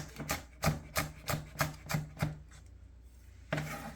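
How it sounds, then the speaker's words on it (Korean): A knife chops vegetables finely on a board for kimchi, making seven crisp, close, evenly paced thuds, a short pause, then one more cut. "이렇게 송송 썰어 넣어주시고"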